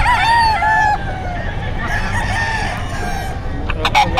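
Roosters crow at a busy pet market, one loud nearby crow followed by further crowing, with crowd murmur and clucking in the background.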